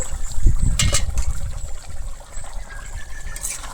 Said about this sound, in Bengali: আমি যে জলটা দিয়েছিলাম জলটা কিন্তু আমার খুব ভালোভাবে এখানে ফুটতে শুরু করে দিয়েছে